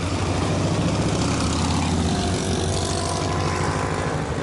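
A Harley motorcycle engine gives a loud, close, steady rumble for several seconds with no talking.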